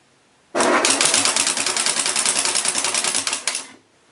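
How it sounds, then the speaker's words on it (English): A Nissan KA24E engine is turned over, giving a sudden start and then about three seconds of a loud, fast, even mechanical clatter from the timing chain before it stops abruptly, with no talking. "So I'm going to rotate the engine so we can see what type of startup rattle this has."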